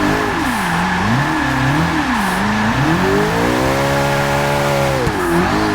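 Mid-engine car in the Forza 6 driving game, loud close engine rising and falling through rev swings, then holding a sustained high rev in fourth gear before a short dip, with no talk.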